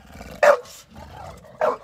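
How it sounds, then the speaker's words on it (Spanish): A dog gives two sharp, raspy barks about a second apart, close and loud, with a rough, screechy edge and faint panting between them. "Tiene como un ladrido de velociraptor"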